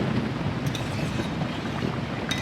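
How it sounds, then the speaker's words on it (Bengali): Steady rain pours down in a dense, continuous hiss with a low rumble beneath, constant and fairly loud throughout, with no voices. "বৃষ্টিও ঝরে ঝরে পড়ছে"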